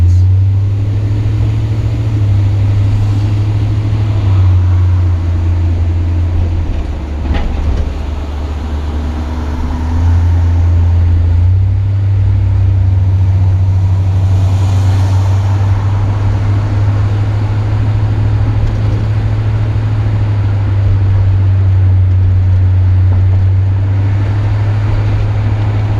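A 1966 Ford Galaxie 500 convertible engine idles steadily after its restoration work, a deep, even low rumble that holds for the whole stretch with a brief dip midway and faint background noise, no talking.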